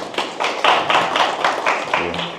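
A small group at a Korean church Bible lecture on Philippians claps for a worship team leader, rhythmic bursts of fairly close hand claps pulsing in steady beats.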